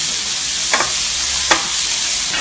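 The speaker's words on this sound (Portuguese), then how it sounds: "um pouquinho de sal pra desidratar a abobrinha, ela soltar o suco e refogar um pouquinho mais" Salted zucchini sautés in a pan, a loud, constant hiss of frying with two or three short spatula scrapes standing out, heard up close and without speech.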